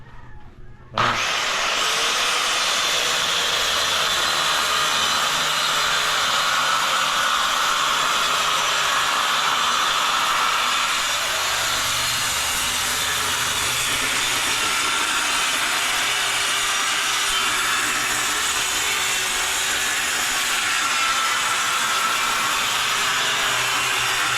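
A power saw whines steadily as it cuts through wood, a loud continuous buzz with slight shifts in pitch, close by and with no talking.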